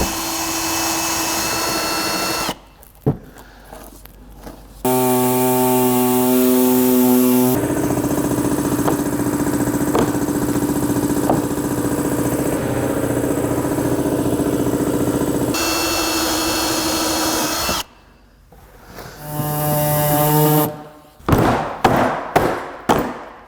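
Body saw cutting a fog light opening into a Honda Pilot plastic bumper, a loud sustained buzzing whine with strong harmonic tones, broken by short pauses and ending in several quick stop-start bursts.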